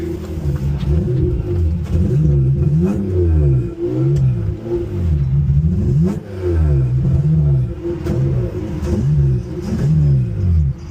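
A turbocharged V6 engine swapped into a Honda Civic revs and pulls away while running cold and rich, giving loud, steady revving with repeated rising and falling pitch sweeps throughout, no talking.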